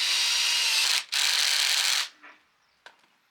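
A small power screwdriver whirs loudly for two short bursts with a brief gap, driving a little screw into a chicken coop frame, then stops with a faint click and rattle afterward.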